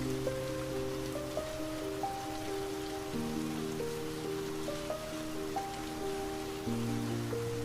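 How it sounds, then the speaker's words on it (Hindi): Steady rain patters down continuously beneath soft background music, with no one speaking. "बारिश और तेज होती गई।"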